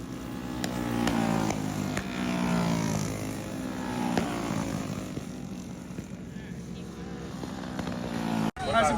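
Racing go-kart engine at a kart track during a championship heat race, a loud steady buzzing drone that holds throughout, with a brief dropout near the end and voices talking over it.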